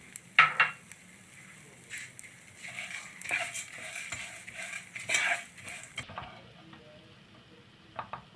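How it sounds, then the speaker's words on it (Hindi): Four magaz melon seeds frying in two tablespoons of ghee in a pan, giving a soft steady sizzle with a few spoon scrapes and clinks against the metal, close and fairly quiet. "दोबारा से 2 टेबल स्पून घी डालेंगे और चारों मगज़ इसमें फ्राई कर रहे हैं।"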